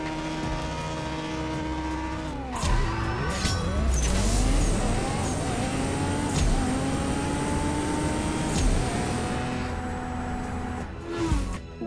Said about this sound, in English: Take a listen, get ready, because this car is fast and it's about to blow your mind.